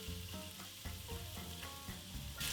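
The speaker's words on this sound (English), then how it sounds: "I am going to take my broccoli and garlic and put it right in." Broccoli and garlic sizzle in a hot pan for spicy orecchiette, a close, continuous frying hiss with rhythmic stirring scrapes and knocks throughout.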